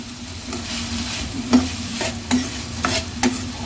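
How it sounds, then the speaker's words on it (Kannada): Chopped onions fry in a pan until browning, a steady sizzle under repeated spatula scrapes and knocks against the metal, roughly once a second, heard close with no voices. "ಇದು ಬ್ರೌನ್ ಕಲರ್ ಬರೋರಿಗೂ ಫ್ರೈ ಮಾಡಿಬಿಟ್ಟು"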